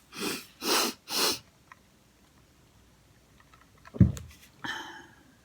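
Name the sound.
sneeze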